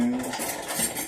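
A grapefruit spoon scrapes and digs seeds out of a split grapefruit half: close, continuous soft scraping and light clinks of metal against the fruit for about a second, with no talking.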